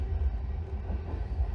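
A train heading to Copenhagen, a low steady rumble with rhythmic pulsing from the carriage, close and moderately loud, lasting under two seconds without talking.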